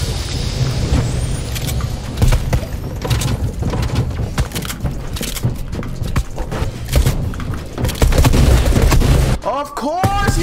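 Shotgun blasts and other weapon fire in a Fortnite match, heard as repeated sharp close shots among building clatter and footsteps, loud and busy, with a rising whistling effect near the end.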